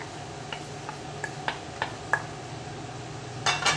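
A spoon or utensil clinks lightly and irregularly against a bowl while minced garlic and sliced white onions are mixed with carrots, with a brief rougher scraping burst near the end.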